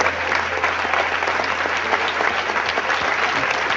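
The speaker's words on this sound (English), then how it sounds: "You know why I applauded." A lecture audience applauds, a brief burst of continuous, dense clapping from many hands at an even, fairly loud level throughout.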